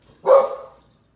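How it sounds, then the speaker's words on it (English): A single dog bark, loud and close, lasting under a second, heard at a home doorway while cross-stitching, with no talking. "Dog."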